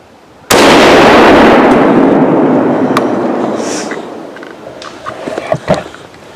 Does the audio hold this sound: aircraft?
no